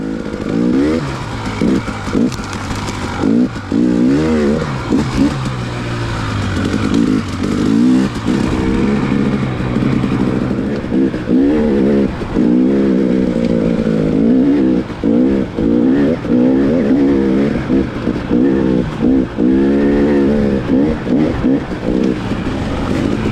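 Off-road dirt bike ridden hard through rutted tracks, its engine loud and close throughout, with repeated revving surges and gear-shift warbles rising and falling over a steady roar, and no talking.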